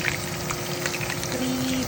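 Food sizzles and fries steadily in a pan while munggo with pork belly is being cooked; a continuous close-up crackle and hiss runs throughout, with no one talking.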